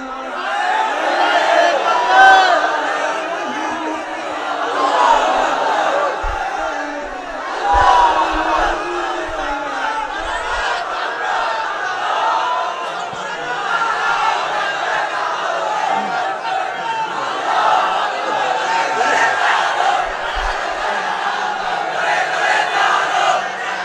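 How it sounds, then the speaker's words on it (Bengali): A large crowd at a religious lecture gathering chants slogans together, a loud, sustained mass of voices rising and falling in rhythmic waves for over twenty seconds. "এদের কি লাগবে? স্লোগান লাগবে। স্লোগান দেন একজন।"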